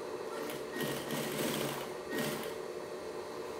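A sewing machine stitches around a necessaire in a soft, rapid mechanical chatter, with two short bursts of speed over a steady quiet running sound and no speech.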